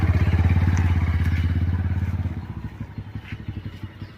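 A motorcycle engine idles close by with a fast, even thumping pulse. It then loosens into slower, uneven chugs, as if winding down.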